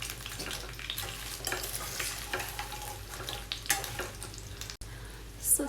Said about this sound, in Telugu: చికెన్ అంతా యాడ్ చేసిన తర్వాత ఇవన్నీ కలిసేటట్టు బాగా మిక్స్ చేసుకోవాలండి